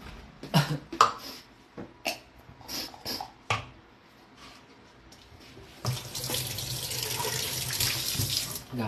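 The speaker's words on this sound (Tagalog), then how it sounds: "Hugasan lang natin ito muna." Tap water runs into a sink while something is washed, preceded by a series of coughs and knocks, then a steady close splashing flow for the last few seconds.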